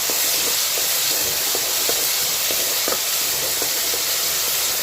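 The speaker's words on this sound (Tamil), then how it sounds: "இப்போ இது நல்லா வெங்காயத்தை நல்லா வதக்கிக்கிறேன்" Steady broadband sizzle of onions sautéing in a pan, a continuous hiss with occasional small pops and crackles, close and fairly loud, no voices.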